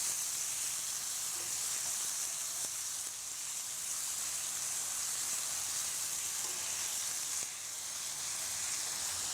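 Pad Thai noodles keep cooking in a pan, giving a soft, even frying hiss that runs unbroken throughout, with no talking.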